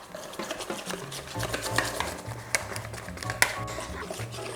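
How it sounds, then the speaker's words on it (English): Crepe batter stirred and whisked in a bowl to work out the lumps, a steady scraping, swishing rhythm up close with occasional sharper clinks of the utensil against the bowl. "now we can add and keep mixing it"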